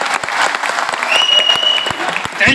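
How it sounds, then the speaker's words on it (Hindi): An audience at a Safeshop event gives a loud, dense round of applause for a team, steady and close throughout with a few cheers and voices mixed in. "एक बार इन सबों के लिए जोरदार ताली होनी चाहिए।"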